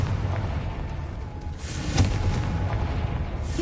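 A Confringo fire blast spell in Hogwarts Legacy bursts as a single muffled boom near the middle, set against a low steady ambient rumble.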